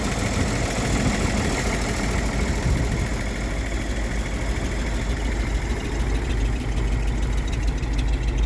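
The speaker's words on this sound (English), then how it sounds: "That's a later model 292, late 60s, early 70s engine. Doesn't run too bad, although it does need a carburetor." A 1954 GMC truck fitted with a later-model late-1960s to early-1970s 292 engine that needs a carburetor runs steadily at idle, giving a loud, close, continuous low rumble with a faint knocking edge and no talk.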